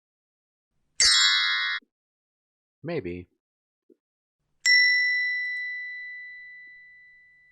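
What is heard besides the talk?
church bells ringing, sound sample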